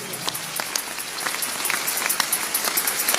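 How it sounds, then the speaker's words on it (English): A church congregation claps, a dense patter of many hands, moderately loud and building slightly, with a voice faintly underneath. "Give the Lord a clap offering."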